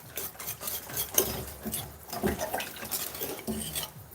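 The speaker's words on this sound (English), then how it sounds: "Whisk this out a little bit more" Béchamel sauce whisked in a metal pan: a busy, continuous scraping and rattling of the whisk against the pan, close and fairly loud, with brief sharper clanks, and no talking.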